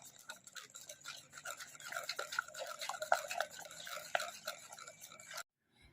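Sponge cake batter with white flour and baking soda is beaten in a bowl, producing rapid, close, wet clicking and tapping strokes that build in intensity before stopping abruptly.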